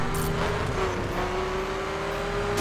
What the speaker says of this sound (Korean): 소리 봐! 엔진 소리!